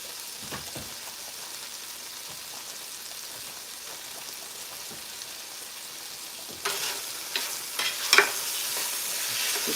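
Food frying in a pan as it is stirred, a soft steady sizzle with scraping strokes that grow louder and busier near the end, with no voices.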